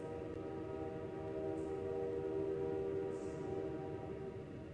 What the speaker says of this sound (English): Suddenly, train sounds.